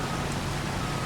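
Steady, even rainfall in the farming game Farming Simulator 25, a constant broadband hiss with no distinct drops standing out, continuous and fairly loud throughout.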